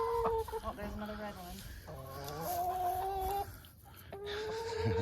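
Several chickens cluck and squawk nearby in short, uneven bursts, with tonal calls rising and falling over a quiet outdoor background.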